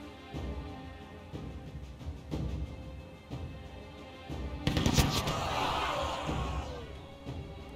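Suppressive gunfire rattles through a battle in the strategy game We. the Revolution, scattered shots followed by a louder, denser volley in the middle, with faint talk between bursts.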